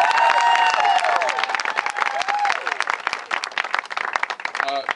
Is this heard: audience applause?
yes